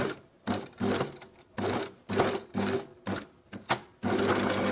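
A sewing machine stitches back and forth over the start of a jeans hem to reinforce it, running in loud close bursts of rapid mechanical whirring separated by brief pauses.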